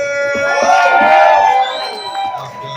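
A crowd at a comedy show in Salem, Oregon cheers and shouts loudly, with high whoops and voices swelling together before tapering off.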